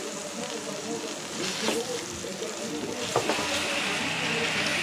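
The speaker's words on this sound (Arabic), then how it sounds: "حطيت ميكس من ده على ده وهقلبهم كده مع بعض" Chopped tomatoes and tomato paste sizzle steadily in a pan, with a couple of scraping stirs of a spoon, up close and fairly loud.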